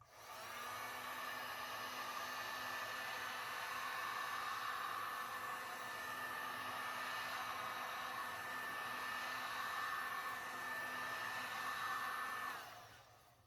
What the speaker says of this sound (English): I'm going to use my heat gun to warm it up before I spread it out.